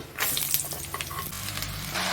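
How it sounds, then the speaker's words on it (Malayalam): Vegetable pieces for aviyal sizzle and crackle in hot coconut oil with curry leaves in a pan, a steady close frying hiss with some stirring and no speech. "ചട്ടി ചൂടായിട്ടുണ്ട്, അതിലേക്ക് നമ്മൾ കുറച്ച് വെളിച്ചെണ്ണ ഒഴിക്കുകയാണ്. കറിവേപ്പില ഇട്ട് കൊടുക്കുക, അതിലേക്ക് നമ്മൾ കഷ്ണം ഇട്ട് കൊടുക്കുക."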